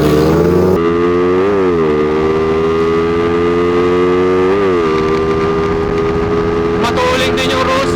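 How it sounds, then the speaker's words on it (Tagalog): Two stock-engine underbone motorcycles, a Rusi Flash and a stock-ECU Raider FI, drag racing, their loud engines revving high and shifting through gears in rising and falling pitch sweeps, with a speaker's voice faintly over the roar. "Rusi Flash. Kay Motolib versus stock na Raider FI"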